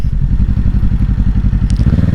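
A 2023 Kawasaki Ninja 650 parallel-twin engine throbs loud and close with a fast, even pulsing rhythm, its exhaust note climbing slightly near the end with a brief metallic tick.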